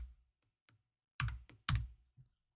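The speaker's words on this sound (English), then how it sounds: "I can type a number, I can type text, I can type a date," Computer keyboard typing during spreadsheet data entry: a few faint scattered taps followed by two louder clusters of quick keystrokes, close and isolated in a quiet room.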